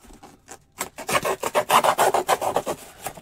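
Cardboard flap of a shipping box for a large fragile antique being folded in, a run of quick scraping, rubbing crinkles after a couple of soft touches, close and fairly loud with no voice.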